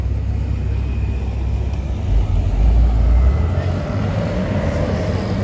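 A Porsche sports car pulls away at a Paris supercar gathering, its engine rumbling low and building to a brief louder rev in the middle before settling, heard amid outdoor crowd ambience.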